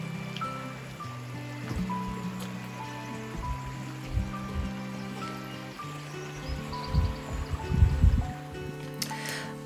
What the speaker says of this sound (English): I've gone downstream to a waterfall.